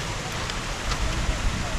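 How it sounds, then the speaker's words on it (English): A waterfall in a London park gives a continuous, even rushing wash of falling water, fairly close and steady throughout. "Waterfall sound."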